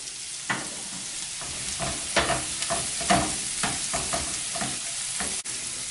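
Sautéed vegetables, garlic, onion and bell pepper seasoned with salt, oregano and pepper are stirred in a pot as the base of a Chilean crab chowder, a spoon scraping in uneven strokes over a steady sizzle, close and with no speech.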